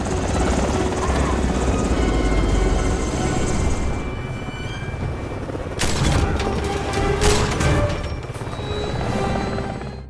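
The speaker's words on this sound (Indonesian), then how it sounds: "John yang melihat helikopter Iriana akan terbang menjemput Komarov, dia pun segera melompat untuk menghentikan helikopter itu" A helicopter takes off in an action film scene, its loud rotor roar and whine dominating throughout, joined by sharp impacts and bursts like gunfire partway through.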